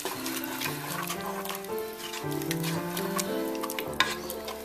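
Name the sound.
stirring garlic frying in a pot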